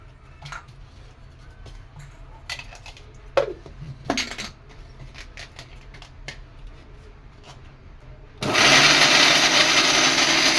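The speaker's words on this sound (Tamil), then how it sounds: "மிக்ஸி ஜாரில் போட்டுங்க. வறுவலுக்கு மசாலா அரைச்சிக்கலாம்." Clinks of utensils and jars give way to a mixer grinder starting up suddenly, grinding masala with a loud, steady whirring that continues to the end.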